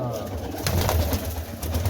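A pigeon coos softly in low, repeated murmurs amid a hum of background noise, close by at a pigeon fancier's loft.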